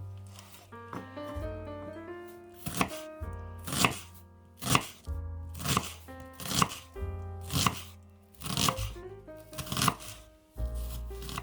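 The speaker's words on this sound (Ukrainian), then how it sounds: "Цибулин розрізаю спочатку на четвертинку, а потім ріжу кільцями." A knife chops an onion into rings on a board in slow, steady strokes, each with a crisp crunch and a thud, with faint music underneath.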